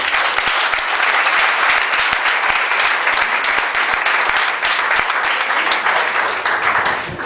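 A church congregation applauds steadily and loudly, a dense continuous wash of many hands clapping that holds for several seconds without talk over it.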